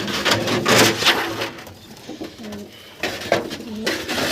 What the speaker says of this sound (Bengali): এই যে কিছু পায়রা এখন বার হয়নি, এদের একটু বার করে দিতে হবে